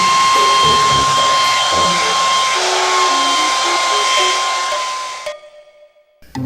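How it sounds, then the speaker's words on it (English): A handheld hair dryer blowing steadily at close range to soften the plastic shoulder joints of a toy robot, a loud continuous whirring hiss with a thin whine that cuts off abruptly near the end, leaving faint handling sounds. "Now grab the hair dryer and give it a blast for about a minute."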